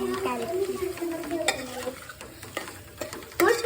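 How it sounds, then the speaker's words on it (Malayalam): Prawns frying in a pan with spice masala made from sambar powder and biryani masala, a steady close sizzle broken by stirring scrapes and clinks, with a voice speaking briefly over it. "ഇതിലേക്ക് ചെമ്മീനിട്ട് ഗൈസ്."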